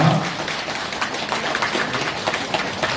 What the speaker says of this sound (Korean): 모두 따라 함께 기도하면서 우리와 같은 박수 부탁드립니다